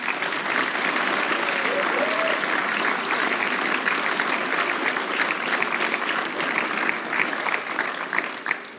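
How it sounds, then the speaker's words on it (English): Sustained audience applause after an elementary school play fills the room, a dense steady wash of many hands clapping at moderate loudness, with a few voices mixed in. "let's give them another round of applause"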